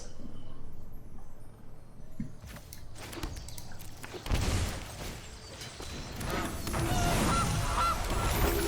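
Geese honking in the card game MTG Arena, a flurry of game sound effects with honks and clatter building to a dense, loud burst toward the end.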